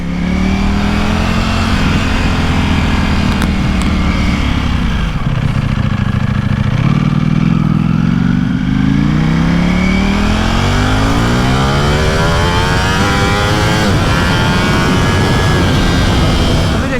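A Ducati Panigale V4 superbike pulls away nearby, its loud engine revving and climbing in pitch through repeated gear changes, with no one talking.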